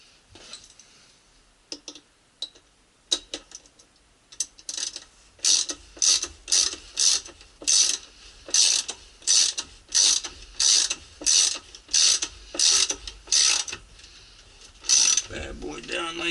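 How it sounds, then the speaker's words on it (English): A ratchet and socket spin down the agitator bolt on a Maytag Bravos XL washer, giving scattered clicks at first, then a steady run of rapid metallic ratcheting strokes, close and loud, with no talking. "Drop the agitator bolt down in there. Just use the socket to spin it down."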